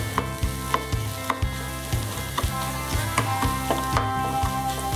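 Onions and spice powders are sautéed in a pan, giving a steady close sizzle punctuated by regular scraping clicks of a spatula stirring.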